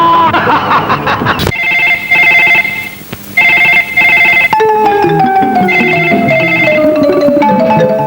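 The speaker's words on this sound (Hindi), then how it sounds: "तुम्हारे टेलीफोन की बेल ने मेरा हसीन सपना तोड़ दिया।" A telephone bell rings in repeated loud, close bursts with short pauses between them, after a brief stretch of laughter-like voices.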